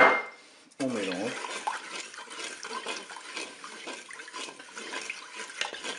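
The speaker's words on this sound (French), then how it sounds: "On mélange." Lemon juice, sugar and soy milk are stirred together in a multicooker bowl, with a liquid pour followed by swishing, scraping and light clinks of a utensil against the pot, fairly close.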